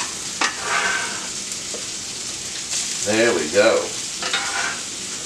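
Food sizzles and crackles steadily in a hot cast iron skillet during a breakfast stir fry, with stirring scrapes and a short spoken remark partway through.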